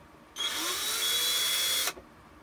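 A power drill whirs for about one and a half seconds while boring into plastic Shadow Trooper armor parts, starting and stopping abruptly, close and alone.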